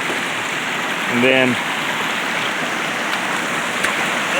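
Water pours steadily down a spillway below a waterfall after rain, a continuous broadband rush heard from above the second fall, with a brief spoken phrase over it.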